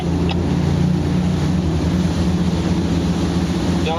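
Boat engine droning steadily as a vessel comes into a harbour for fuel, a constant loud, low rumble with no pauses.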